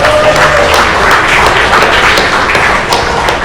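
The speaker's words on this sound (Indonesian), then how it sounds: "Tepuk tangan untuk semuanya." Seminar audience clapping together in a steady, dense round of applause that fills the whole stretch at high volume, with a few louder individual claps standing out.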